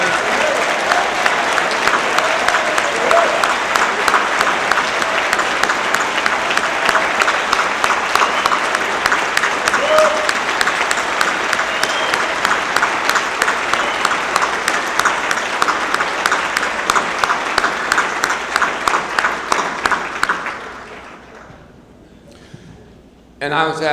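Sustained audience applause for a speaker at a Martin Luther King Jr. event, dense steady clapping filling about twenty seconds before tapering off to near silence.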